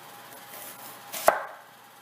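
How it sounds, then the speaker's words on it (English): A single sharp knife chop through an onion on a cutting board, one crisp close stroke rising out of a quiet kitchen. "chop up an onion"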